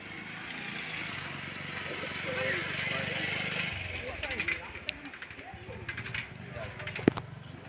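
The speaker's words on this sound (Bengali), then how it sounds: "পায়রা" Domestic pigeons cooing softly outdoors at a loft, low murmuring calls blended with wingbeats and a steady background rumble, a few sharper clicks and taps toward the end, with faint voices nearby.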